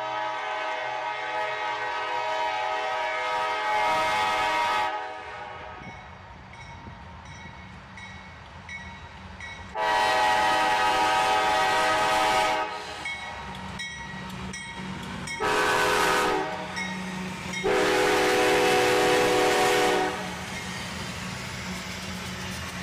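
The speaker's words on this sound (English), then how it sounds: "the tail end of this train passes us by, brought up by a high top gondola" Freight train rolling steadily past close by on a mainline, its tail end brought up by a high top gondola, with a loud continuous rumble and clatter of wheels and several bursts of louder horn-like tones.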